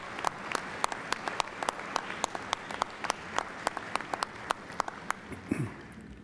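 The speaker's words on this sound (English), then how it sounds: "I would like for you to give them a round of applause for all they have done" A commencement audience in an open setting gives scattered applause, individual claps standing out sharply and sparsely over a quiet background, with a brief rustle near the end.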